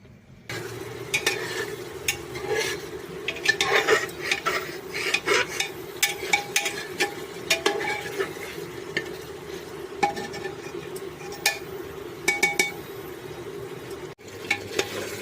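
Goat meat and potatoes are stir-fried in a pan, a steady sizzle under frequent scraping and stirring strokes of a spatula against the metal, close and even for the whole stretch with no voices.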